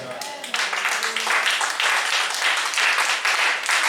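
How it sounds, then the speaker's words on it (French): A church congregation claps and cheers for Jesus, dense applause swelling in after a brief spoken line and holding strong throughout. "Acclamons Jésus, s'il te plaît."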